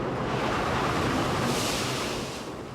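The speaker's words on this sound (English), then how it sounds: "The scene was the same on I-90, the bridge battered by waves." Storm waves pound the I-90 floating bridge in a January windstorm, a loud, dense roar of surf and wind noise that holds steady, then eases slightly at the end.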